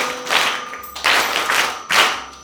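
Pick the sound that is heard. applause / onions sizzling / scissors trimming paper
applause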